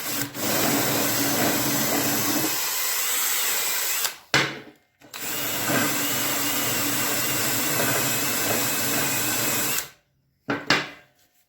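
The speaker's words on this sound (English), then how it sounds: "I'm going to switch to this smaller wire wheel." A small wire wheel on a power tool grinds at a hammerhead in a steady high whirring rasp, cutting out briefly around the middle and stopping near the end with short bursts.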